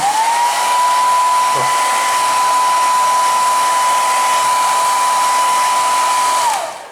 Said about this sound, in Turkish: Ön taraftan havalandırıyorum. Saç diplerinden ta arkaya kadar gidiyor bu.